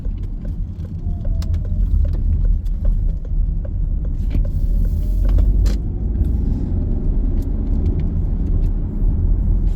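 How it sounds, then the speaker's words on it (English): Road traffic rumbles past steadily on a road near East Cramlington, a continuous low engine and tyre drone with vehicles swelling louder and fading throughout, heard close by outdoors. "So the traffic along here will have increased over the last 10-15 years"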